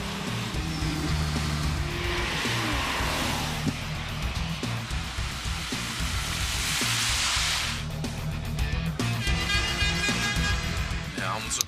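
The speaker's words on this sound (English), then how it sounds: "Bombing down the racetrack in his own car, giving it gas." A Volkswagen car accelerating on a racetrack, its engine droning and rising through gears with a brief tire squeal, heard at moderate distance beneath a voice and background commentary.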